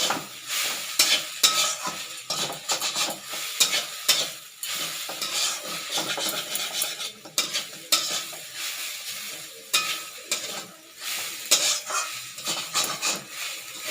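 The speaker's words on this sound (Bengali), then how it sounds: "আমি একটু অল্প করে সাদা তেল দিচ্ছি। দিয়ে ভাজতে থাকবো।" Potatoes fry in a little white oil in a wok for a potato payesh, a steady sizzle broken by frequent scraping and stirring strokes of a spatula against the pan, close and continuous.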